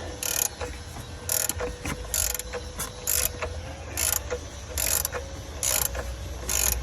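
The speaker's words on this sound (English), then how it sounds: "21 millimeter ratchet wrench and a 16 millimeter ratcheting wrench as well" A 21 mm ratchet wrench and a 16 mm ratcheting wrench working on a Chevy/GMC truck power steering pump, giving repeated rapid clicking ratchet bursts in a steady back-and-forth rhythm, close up with no talking.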